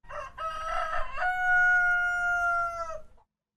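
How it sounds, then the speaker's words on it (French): A rooster crows once, loud and close, a long clear cock-a-doodle-doo that rises and holds before trailing off, alone without talk. "est-ce que tu sais c'est quoi, le bruit d'un coq?"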